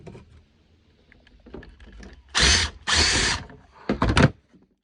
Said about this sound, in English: Marked it out and cutting it with a grinder.